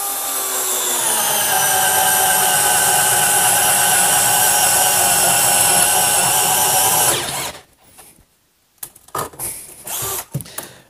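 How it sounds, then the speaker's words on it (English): Bosch brushless drill boring with a 1-inch spade bit, a loud continuous whine for about seven seconds that stops abruptly, followed by a few short clatters and handling noises. "Let's see if this is capable of drilling a 1-inch spade"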